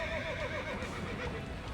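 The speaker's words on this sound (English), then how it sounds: "the red-tailed horse deftly bypasses them all before running off in agitation" A red-tailed horse in Reverse 1999 gives a loud, wavering neigh and whinny over a dense layer of background noise and faint hoof clatter, in one brief agitated burst.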